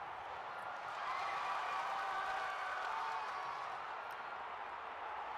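A crowd cheers and roars steadily through an event in a Second Life wrestling video game, a continuous wash of noise at moderate volume that swells slightly and then holds.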